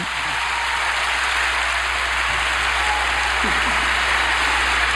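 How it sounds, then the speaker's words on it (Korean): Applause at a memorial service in Baltimore, a steady, dense wash of clapping from a large crowd lasting throughout. "이렇게 박수를 많이 받았습니다"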